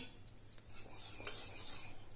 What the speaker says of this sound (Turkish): Devamlı karıştıralım. Tencerenin dibi tutmasın.